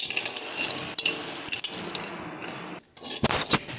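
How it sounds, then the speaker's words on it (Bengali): Small eggplants fry in a pan and a utensil stirs them, with a steady sizzle broken by scraping strokes and light metallic clinks, heard up close with no talking. "এইভাবে কিন্তু সুন্দরভাবে এটাকে আমরা আরও বেশ কিছুক্ষণ ভেজে নেব"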